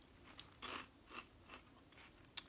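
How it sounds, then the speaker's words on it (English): Crunchy fried snack from a Dollar Tree haul being chewed, giving several faint, irregular crunches close to the mouth in an otherwise quiet room, with no talking. "They have a nice crunch to them."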